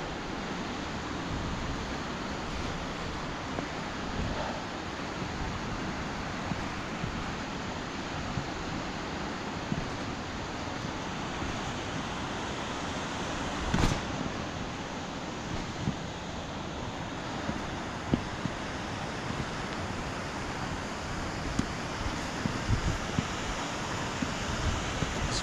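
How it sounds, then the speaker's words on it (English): Heavy rain pours outdoors near Gayle waterfall in a dense, steady broadband hiss with rushing water underneath. It stays constant throughout, with occasional close taps and rustles near the microphone. "it's pissing down the rain."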